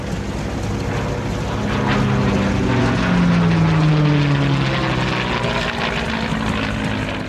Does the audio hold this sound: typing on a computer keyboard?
no